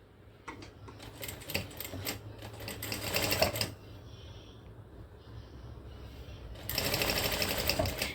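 A sewing machine stitches fabric in bursts of rapid mechanical clatter, running for a few seconds, pausing briefly, then starting again close by, with no talking.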